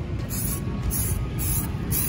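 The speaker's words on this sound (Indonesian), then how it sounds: "Yang awal ini semprotan dasar putihnya kita kayak apa ya" Spray painting a thin white primer coat onto an old Honda CBR 150 fairing produces a steady hissing spray in repeated short bursts about every half second, close and even in volume, with a low background rumble and no talking.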